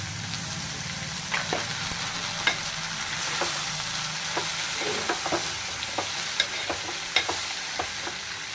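Boiled green peas fry in a pan for a spicy street-style snack, giving a constant sizzling hiss with repeated light scrapes and clicks of the stirring spoon scattered throughout, close by and without speech.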